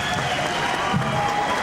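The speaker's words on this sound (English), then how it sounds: "They give them a big round of applause." A high school basketball crowd in Clarkston's home gym gives the starters a round of applause as they leave the court, a steady wash of clapping mixed with crowd murmur and a commentator talking.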